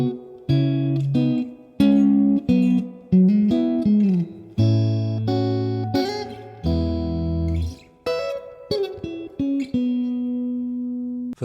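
Clean electric guitar plays a slow, melodic lead line from a song, with sustained bent notes and picked phrases ringing out alone and close.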